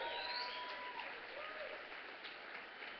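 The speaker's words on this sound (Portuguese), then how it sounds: "Vamos aplaudir ao Senhor Jesus pela vida dele." A church congregation applauds a visiting pastor, a steady, distant wash of clapping that stays at an even, fairly faint level with no distinct individual claps.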